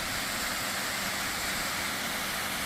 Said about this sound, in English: We've found our waterfall.